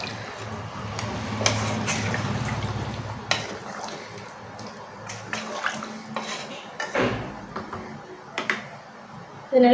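Water is poured into a pot of sambar with vegetables, a steady splashing rush at first, followed by metallic clinks and scrapes of a ladle or utensils against the pot.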